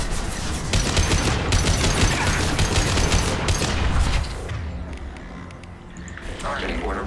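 Rapid assault rifle bursts in the Mass Effect 2 video game fill the first half with dense, loud automatic fire, then fade to quieter combat ambience as someone talks over the action.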